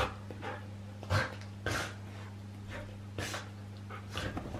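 Puppies playing together indoors, with panting, snuffling, small whimpers and short yips in scattered bursts over a steady low electrical hum, close by and fairly quiet.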